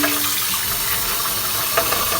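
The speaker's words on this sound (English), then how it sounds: "I'm going to rinse it with hot water" Running hot water splashes and gushes steadily while a Keurig coffee maker's reservoir is rinsed at a kitchen tap, a continuous hiss close by with a brief clunk near the end.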